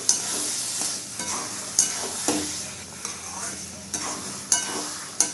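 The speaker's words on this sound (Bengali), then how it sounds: "সবসময় খন্তিটা নাড়িয়ে যেতে হবে নাহলে নিচে বসে যাবে" Carrot halwa with sugar stirred in a pan with a spatula: repeated scraping strokes over a constant soft sizzle, with sharper clicks of the spatula against the pan every second or so. Close and moderately loud, with no talking.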